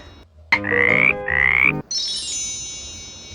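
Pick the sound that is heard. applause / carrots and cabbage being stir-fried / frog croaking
frog croaking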